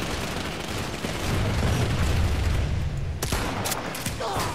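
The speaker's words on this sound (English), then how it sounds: "Shotgun time" Shotgun blasts from the online shooter Planetside 2 boom through dense, continuous combat noise, with a sharper crack standing out near the end amid the steady roar of battle.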